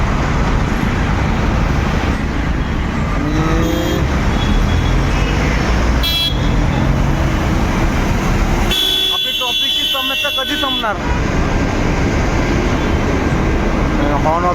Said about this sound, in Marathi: आता जाताना पण ट्रॉफिक लागलेलं आहे